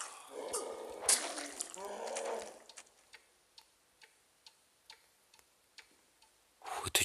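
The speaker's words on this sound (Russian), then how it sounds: "Ух, это часы, ё-моё!" A clock ticks steadily in the video game Bendy and the Ink Machine, with even, close clicks spaced about half a second apart after a burst of someone talking, and louder talk returns at the end.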